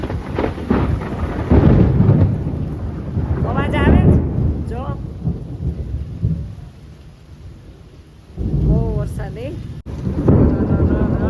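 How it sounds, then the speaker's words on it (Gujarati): Heavy rain roars over a thunderstorm with deep rumbling, while people talk over it at times; the downpour continues between voices. "બહુ વરસાદ આવ્યો એ જો કેવી વીજળી થાય છે"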